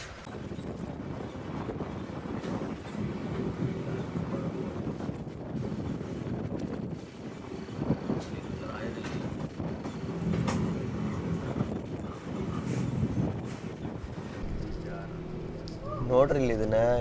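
A moving Vivek Express passenger train gives a steady low rumble with rattling and wind buffeting throughout, and someone talks over it.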